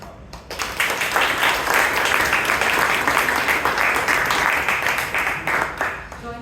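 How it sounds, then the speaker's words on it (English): Toastmasters club audience breaking into applause after an evaluation, dense steady clapping from a roomful of people that swells quickly and holds for several seconds before easing slightly. "Let's give you some applause to Rajdeep and the speaker."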